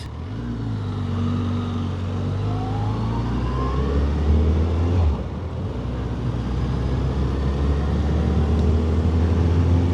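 Suzuki Hayabusa motorcycle engine while riding, a steady loud drone with shifting pitch as the engine revs and eases, plus wind rush, heard close and continuous.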